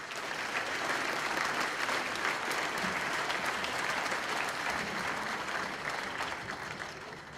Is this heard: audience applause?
yes